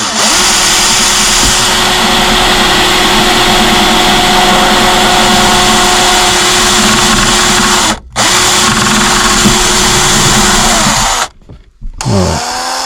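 Power drill boring a hole through a panel inside a VW Transporter T5/T6 van, a steady loud whine running almost continuously, cut off briefly near the middle and again near the end.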